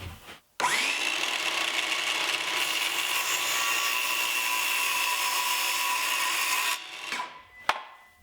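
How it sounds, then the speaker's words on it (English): Circular saw running in a guide jig, cutting plywood in one long continuous high whine of about six seconds, close and loud, then spinning down with a final sharp knock. "I'll make this cut using a jig for my circular saw"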